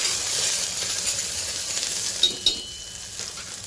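Onions with turmeric frying in a pan for a potato curry, a steady close sizzle with a couple of sharp metallic clicks near the end and no voices.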